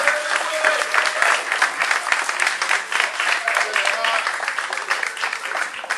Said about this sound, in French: Je voulais qu'on donne une bonne main d'applaudissement à Will qui fait fort.